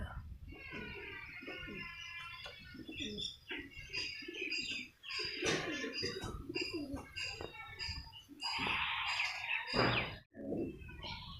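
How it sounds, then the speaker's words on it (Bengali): Pigeons from a flock of about sixty coo in soft, repeated rolling calls mixed with light chirps, close by and fairly quiet. "ষাটটা কবুতর আছে"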